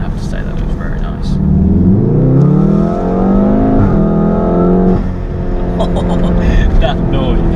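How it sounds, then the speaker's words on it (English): A tuned 400bhp APR Stage 2 Volkswagen Golf R estate engine rumbles and revs up with a rising tone, exhaust and large air intake roaring, then settles, loud and close, with people talking over the noise. "We've got the exhaust, and then we've got that massive air intake as well."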